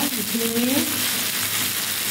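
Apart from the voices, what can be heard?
vegetables frying in oil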